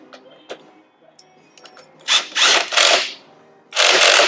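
A pneumatic impact wrench working on a dirt bike's front fork during a seal job, a few faint clicks and handling noises followed by three loud, close bursts of hammering.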